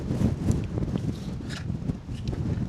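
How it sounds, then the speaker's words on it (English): Wind gusting across an exposed Lake District fell top near Skiddaw, a steady close rumbling buffet against the microphone throughout, with faint footstep-like scuffs. "Let's get all this wind."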